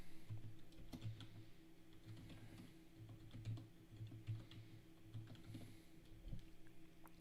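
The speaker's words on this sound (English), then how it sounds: "Here, I'm gonna type it in there." Rapid, uneven clicking of keys on a computer keyboard as a website address is typed, steady and close over a low constant hum, with no talk.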